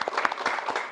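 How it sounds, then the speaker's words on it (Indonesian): A brief burst of audience clapping at a comedy roast show for a couple, quick and dense and fairly loud, lasting under a second. "Tepuk tangan dulu buat mereka karena mereka ini pasangan yang kompak teman-teman"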